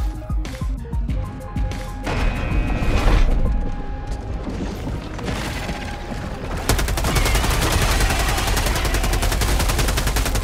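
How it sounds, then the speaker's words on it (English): Rapid bursts of automatic gunfire and heavy booms from the video game Helldivers 2, loud and dense, with a sustained barrage of shots and explosions building toward the end. "The shooting feels awesome in this already"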